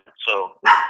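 Dog barking in the background during a phone call about a real estate deal, two short close barks, with a voice in the clip.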